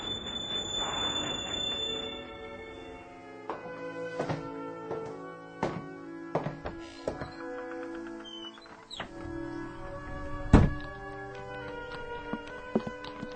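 A train slows and stops at a station, with repeated metallic clunks and thuds of the cars, brief squeals of wheels and brakes, and a heavy jolt near the end, all fairly close.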